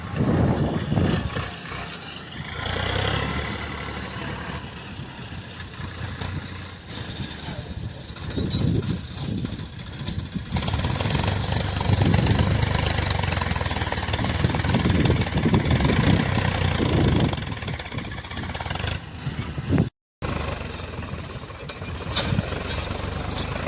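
A tractor engine chugs steadily at idle throughout, a low rumbling drone with some irregular knocking, fairly close, with a brief dropout near the end.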